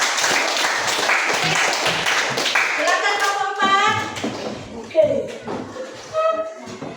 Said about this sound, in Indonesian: bagus, tepuk tangan juga